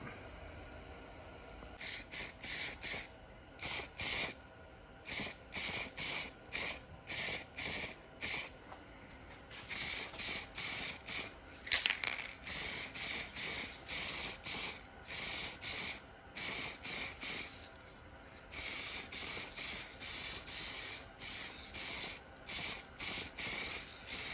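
A spray can or spray gun coats a stripped car spindle for a 1963 Studebaker Lark in a long series of short hissing bursts, each a second or so, with brief gaps between them. Close and steady, with no talking.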